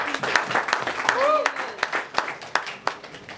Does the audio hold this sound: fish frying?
no